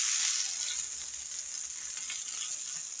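A dosa cooking on a hot pan, with a steady bright hiss and sizzle that stays loud and even throughout, no voices.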